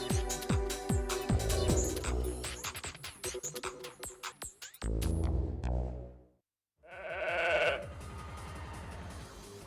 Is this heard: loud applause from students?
no